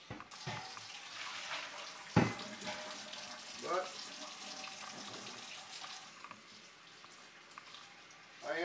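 Tap water runs steadily into a sink while the base of a Berkey water filter is rinsed out. The flow makes a continuous splashing rush, with a sharper splash and clunk partway through and small shifts as the base is moved under the stream.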